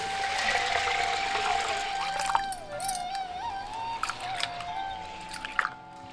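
Half a kilo of urad dal is swirled and washed in water for sambar vada, with splashing, sloshing water, wet grain rubbing and a few sharp clinks, close and moderately loud.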